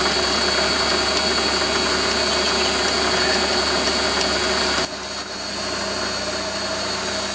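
Drilling a part on a Warco lathe, a loud steady motor drone with a constant mechanical whine that drops in level partway through and then continues.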